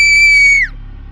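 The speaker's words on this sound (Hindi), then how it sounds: "तभी उसे अनु की चीख सुनाई दी।" A girl named Anu screams in a horror story, one long high sustained shriek that bends downward and cuts off, followed by quiet.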